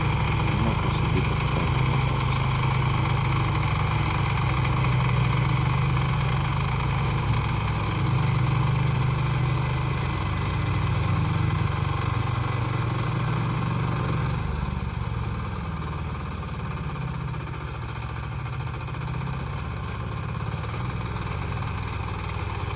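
An articulated mini tractor engine runs steadily at idle, a continuous low rumble that dips slightly in the latter half.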